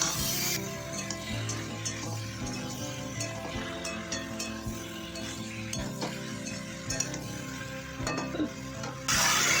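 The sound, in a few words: sautéing ginger and tomato in a pan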